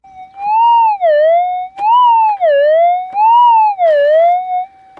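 Metal detector signal over a small gold nugget target in an underground tunnel gold mine: a loud, continuous electronic tone that warbles up and down in pitch in repeated swells, with no voices.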